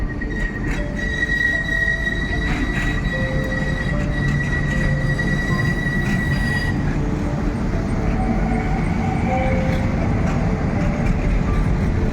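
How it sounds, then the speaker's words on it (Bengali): A metro train arrives at a station, a loud continuous rumble of wheels on rails with sustained high metallic squeals that fade out after several seconds while the rolling noise continues. "মেট্রো আসছে"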